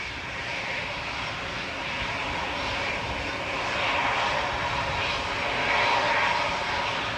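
A Boeing 737-800 takes off at Manchester Airport, its jet engines roaring in a broad, steady rush that swells louder toward the end, with no talk over it.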